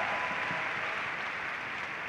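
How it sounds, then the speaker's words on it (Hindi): Audience applause fills a hall at a company success-day event in Delhi, a dense, even wash of many hands clapping at moderate loudness with no talk over it. "जिनके लिए एक बार ज़ोरदार तालियां बजा दीजिए"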